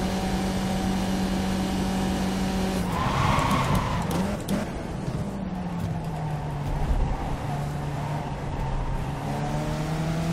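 Race car in the iRacing sim braking hard at Monza, a steady engine drone dropping in pitch with a brief burst of tire noise, loud and continuous with no talk.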